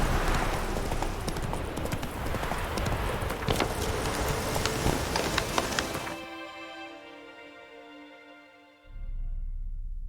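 Hooves of the horse Roach trot with a busy clip-clop in The Witcher 3 for about six seconds, loud and close, then stop, leaving a soft sustained tonal drone and a low rumble.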